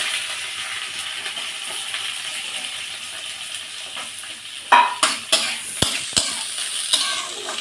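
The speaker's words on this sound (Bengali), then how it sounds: "এবার পেঁপে কুচনোগুলো দিয়ে দেব।" Chopped papaya hits hot oil and fried spices in a pan, giving a steady close sizzle, then a stir with several sharp utensil clinks and scrapes against the pot partway through.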